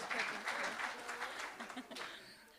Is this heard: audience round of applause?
yes